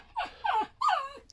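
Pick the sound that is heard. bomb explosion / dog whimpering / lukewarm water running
dog whimpering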